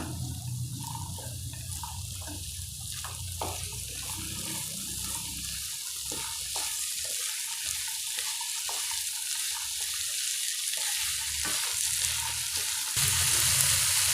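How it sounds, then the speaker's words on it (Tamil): Carrots and green peas sauté with salt in a pan for semiya kichadi. A steady, close sizzle runs throughout, broken by intermittent scraping and stirring clicks. "கூடவே நம்ம கேரட்டையும் சேர்க்கலாம் பச்சை பட்டாணியும் சேர்த்துடலாங்க காய்கறிக்கு தேவையான உப்பு சேர்த்துக்கலாங்க நல்லா வதக்கிக்கலாம்"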